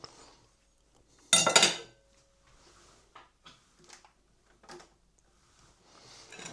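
Cutlery scrapes and clinks on a plate of steaklet with onion gravy, chips and beans, opening with a loud burst of metal-on-crockery clatter, followed by sparse quieter taps and scrapes at close range.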